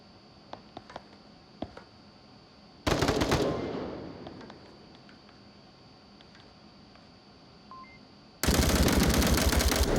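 Bursts of automatic gunfire in the Onward VR shooter during a custom-map tournament match, a sharp loud volley after a few quiet ticks, then a sustained dense burst near the end, with no talk over it.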